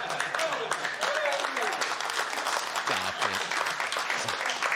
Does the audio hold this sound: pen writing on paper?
no